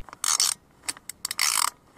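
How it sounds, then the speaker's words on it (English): A socket ratchet works a rocker cover bolt on a 2003 Skoda Fabia 1.9 TDI PD engine, giving several quick bursts of crisp clicking with short pauses between, close and loud without speech. "Once you've got the socket on, it's quite easy really. Loosen that off."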